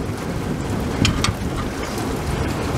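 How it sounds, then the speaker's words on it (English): Heavy rain pours steadily onto a backyard, a dense, continuous hiss close by with a couple of brief sharper spatters and no voices. "it's raining like all get up"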